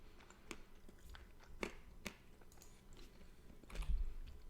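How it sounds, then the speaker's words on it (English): Almonds crunched close up in a quiet setting: faint, sparse bites and crisp cracks in uneven rhythm, a few louder crunches standing out over low background hiss, with no speech. "I suggest muting for the next minute or so. If you don't like chewing sounds."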